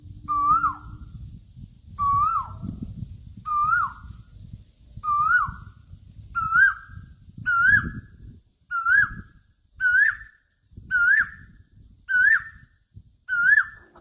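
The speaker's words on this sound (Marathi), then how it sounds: "कोकिलचा आवाज इतकं सुंदर आमच्या घराकडे आलता ना" An Asian koel calls near a house in a village, about a dozen rising whistled notes repeated at a steady, quickening pace, clear and fairly close, over faint low background noise.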